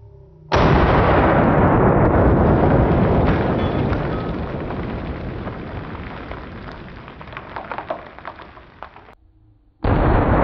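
A Mare's Leg lever-action rifle fires at a 2-liter bottle outdoors, giving one sudden loud blast that rolls into a long, slowly fading rumbling echo, then a second sharp burst right at the end.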